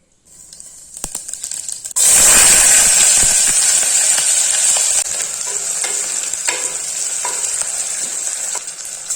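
Spices fry with a loud, steady sizzle in a hot pressure cooker before chicken goes in. Stirring scrapes at the start, then a sudden burst of intense frying takes over and settles into continuous crackling with occasional clinks.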